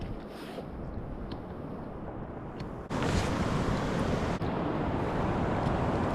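Sea waves washing against shoreline rocks, a steady broadband wash with gusty wind buffeting and a louder surge midway, close and continuous with no voices.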